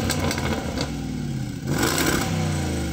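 A Jaguar SUV engine revs hard and bounces against its soft rev limiter, holding a high, stuttering drone with a short dip before climbing again.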